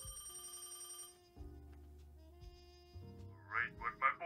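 A telephone rings in the point-and-click detective game Crime or Punishment, a bright electronic ring over a low game music bed, followed by a few short chirpy tones near the end.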